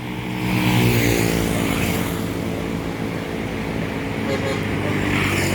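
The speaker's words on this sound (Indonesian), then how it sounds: "Tam Jet bus 5 menuju Rantau Tam" A Jetbus 5 coach drives past on a road, its engine and tyre roar loud and steady throughout, swelling briefly near the start, with a voice over the noise.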